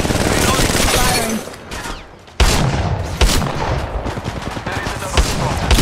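Rapid bursts of gunfire from Apex Legends Mobile crackle loudly throughout, with a brief lull midway before shooting resumes, while an announcer-style voice speaks over the action.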